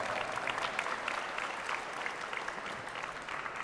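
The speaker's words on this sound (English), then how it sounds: "let's give them a round of applause" Audience at a Creative Commons launch event giving a round of applause, a steady, moderately distant wash of clapping with no talk over it.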